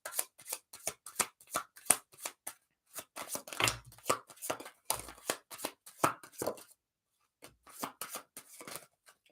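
Oracle cards being shuffled by hand, close up in a quiet room, in quick bursts of crisp riffling and slapping with short pauses between.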